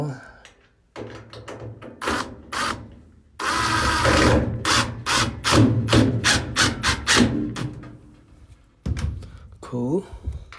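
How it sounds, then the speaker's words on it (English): Cordless power drill whirring in short bursts and longer runs during a GE clothes dryer repair, with clunks and tool handling between the bursts, close by. "run the drill."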